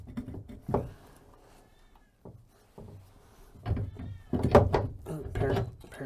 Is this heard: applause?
no